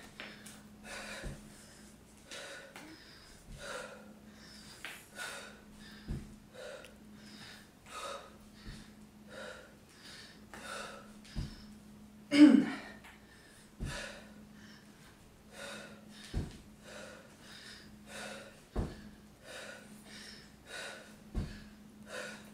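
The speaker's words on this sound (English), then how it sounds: "deep breathing." Heavy rhythmic breathing from someone working out on a running cross trainer, steady panting breaths repeating over a low machine hum, with occasional sharp knocks and one louder gasp midway.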